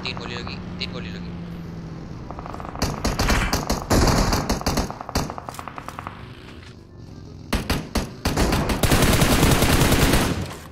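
PUBG Mobile gunfire in a Miramar scrim match: repeated bursts of rapid, loud automatic shots and single cracks, some sharp and close, broken by brief pauses, with a vehicle rumble and players talking throughout.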